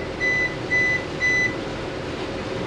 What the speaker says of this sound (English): A little shallow water alarm here.